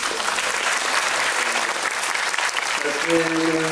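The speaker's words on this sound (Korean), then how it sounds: "우리 수영 감독님께도 박수 한번 드려주세요." Audience at a film festival guest talk for the film Mogadishu applauds the director, a dense, loud, steady wash of clapping from a full room, with a voice starting to speak over it near the end.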